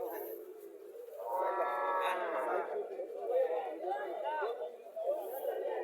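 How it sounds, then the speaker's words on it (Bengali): A Friesian dairy cow lows at a cattle farm in Chauddagram, Cumilla, a drawn-out moo rising under people chattering nearby. "এটা একটা আরও একটা গাভী"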